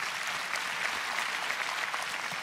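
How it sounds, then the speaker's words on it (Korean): Steady, dense applause from a crowd at a literary award ceremony, a continuous hiss of many hands clapping at an even level throughout. "네, 큰 박수 부탁드립니다"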